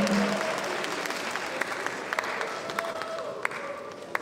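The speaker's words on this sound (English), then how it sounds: "Can we give President King a very big applause?" Audience applause at a physician assistants' induction ceremony in Ghana, a soft, steady patter of many hands clapping some distance away, with a few sharper individual claps standing out.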